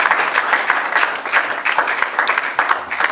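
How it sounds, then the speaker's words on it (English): Sustained applause from an audience at a technical lecture and seminar closing at a beach resort, dense steady clapping continuing throughout without a break. "all of us for this need a huge round of applause for ourselves"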